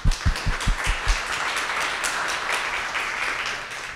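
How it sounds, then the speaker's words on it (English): Audience applause at a Women in Wireless networking event, starting with a few loud, close individual claps and settling into steady, moderate clapping from a seated crowd. "Please give them a round of applause."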